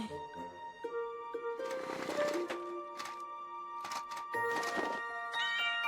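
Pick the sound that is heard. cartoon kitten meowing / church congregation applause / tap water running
cartoon kitten meowing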